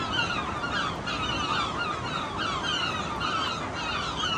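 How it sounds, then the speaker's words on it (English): Seagulls call continuously from a coastal cliff colony, a dense chorus of overlapping honking cries carrying steadily for several seconds with no pauses. "This particular part of the cliff is inhabited by seagulls."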